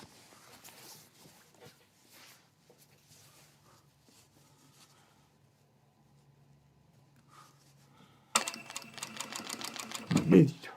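A home sewing machine runs in a quick, loud burst of rapid stitching near the end, after a long stretch of quiet room sound and soft talk.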